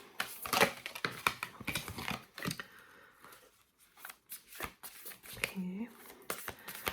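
Tarot cards are shuffled close up in quick riffling, flapping bursts, with someone talking between and over the shuffles.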